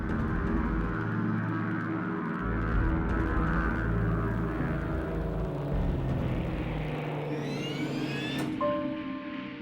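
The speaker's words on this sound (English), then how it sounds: "TWA Flight 2 lifts off eastbound for Kansas City." A Lockheed Super Constellation airliner, TWA Flight 2, taking off eastbound from Los Angeles International Airport in 1956, its piston-propeller engines giving a loud, sustained droning roar that grows then thins as the aircraft passes.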